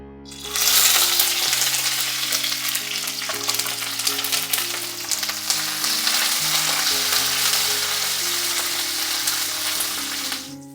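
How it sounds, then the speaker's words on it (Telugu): Green chillies, tamarind and garlic fry in oil with a loud, steady sizzle and crackle that carries on throughout, under soft background music. "మరలా ఒక్క స్పూన్ ఆయిల్ వేసుకున్న తర్వాత ఒక పది పదిహేను పచ్చిమిర్చి కొంచెం కడిగి పెట్టుకున్న చింతపండు నాలుగు వెల్లుల్లి రెబ్బలు ఇవి వేసుకొని కొంచెం వేగనిద్దాం"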